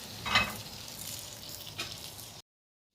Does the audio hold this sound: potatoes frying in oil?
yes